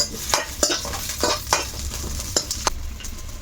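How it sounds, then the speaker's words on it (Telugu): Green chillies fry in a pan for gongura chutney, a steady sizzle broken by several sharp scraping stirs of the utensil, close and fairly loud with no voices. "ఇవి పోయి వేయించుకోవాలి ఇప్పుడు ఇవి కూడా."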